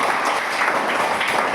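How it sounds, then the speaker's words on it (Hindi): Schoolchildren clap together in a classroom during a Hindi lesson, a brief dense burst of applause, close and loud, running evenly throughout. "सभी बच्चे एक बार तालियां बजा दें।"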